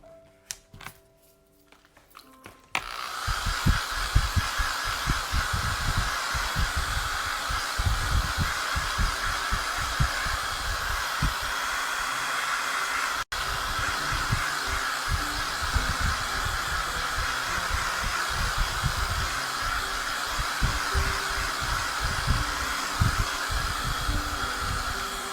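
A hair dryer blows steadily on a chalk paste craft project, a continuous loud whooshing roar that starts after a quiet moment and runs unbroken to the end, with a brief dip partway through.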